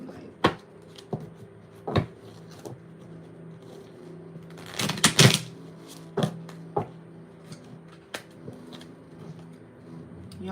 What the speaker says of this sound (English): let's make sure we shuffle them right